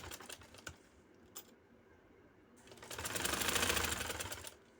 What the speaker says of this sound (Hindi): और यहाँ मैं सिलाई ला रही हूँ।